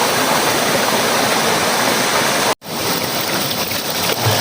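Strong natural spring water gushes out steadily and loudly nearby, a dense continuous rush with one brief cut partway through before the flow resumes.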